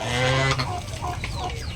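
Turkeys calling close by: a drawn-out, nasal gobbling call, then softer rough clucks and chatter over farmyard noise.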